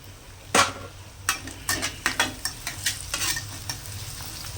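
Onions with a little salt sautéing in a pan for egg rice, with a soft steady sizzle beneath a run of sharp, close spatula scrapes and taps against the metal, about ten strokes, and no speech.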